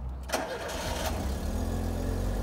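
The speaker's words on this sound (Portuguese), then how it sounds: "Deixa eu ver se ele pega de novo." A Fiat Uno Fire engine cranks with a couple of sharp starter bursts, then catches and settles into a steady, loud, close idle that continues unbroken with no talk.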